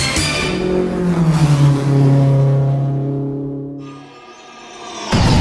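Race cars at a track roar past, engines revving and rising in pitch as one nears and fades away, followed by a brief lull before another car surges in loudly.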